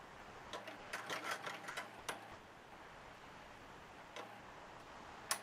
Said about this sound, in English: And I'm just stitching up along the other side.